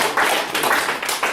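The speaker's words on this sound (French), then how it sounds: "acclamation pour le prophète" A church congregation applauding, a short burst of three or four rapid clusters of clapping, close and fairly loud, with no speech over it.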